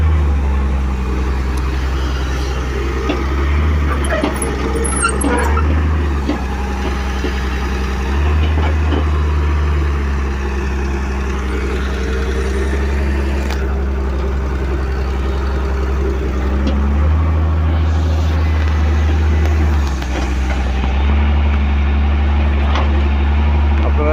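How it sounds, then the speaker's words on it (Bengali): Excavator working on earth filling for a road, a loud continuous engine drone with low rumbling and occasional clanks, steady for the whole stretch with a voice talking over it at times. "স্কেলেটার মেশিন এসে এই মেশিনটি এসে আসলে সেই কাজটি করছে"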